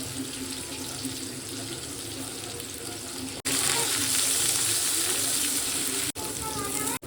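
Dried red chili and cumin seeds dropped into hot mustard oil in a home kitchen, giving a steady bright sizzle that jumps louder midway and continues as intense close frying, with brief breaks near the end.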